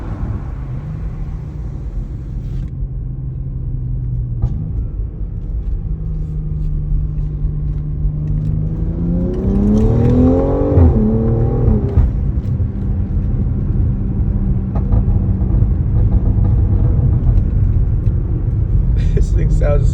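A BMW X3 M with a cheap modified exhaust rumbles at idle, then revs up in a rising, falling sweep before settling back into a loud, deep drone, heard from close by.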